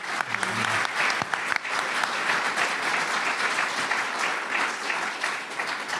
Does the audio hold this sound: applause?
yes